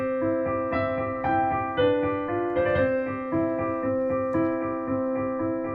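Piano playing a Mozart sonata passage built on arpeggios, with clear sustained tones and steady broken-chord figures over a bass line, moderately loud and continuous for several seconds with no voices.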